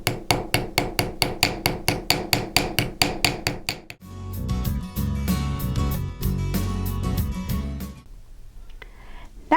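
Small embossing hammer striking a metal stamp on a metal charm, about fifteen sharp, evenly spaced ringing taps, then a louder stretch of rasping and scraping, ending with near silence and a final knock.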